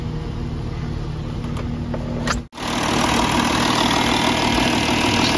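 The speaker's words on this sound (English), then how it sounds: "Sounds a little bit rough when I turn the wheel." A Cosworth car engine idles loudly and steadily, with a brief dip partway through and a rough, whirring hum from the power steering pump continuing underneath as the wheel is turned.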